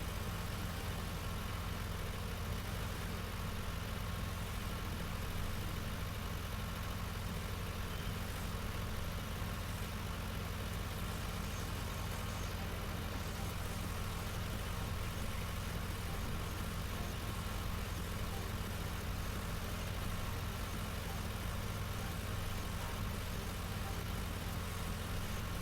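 A modded two-wheel-drive tractor idles steadily in a farming game, a constant low engine drone with no changes in pitch or rhythm throughout.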